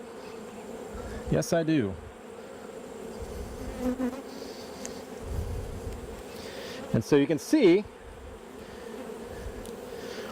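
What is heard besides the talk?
honeybees buzzing around an opened hive frame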